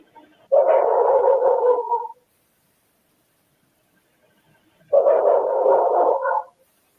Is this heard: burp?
no